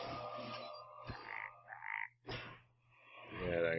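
A Hearthstone Shaman hex spell turns a minion into a frog, giving a magical transformation swoosh followed by a croak, all inside a game's effects with no talking.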